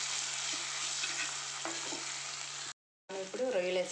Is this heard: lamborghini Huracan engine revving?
no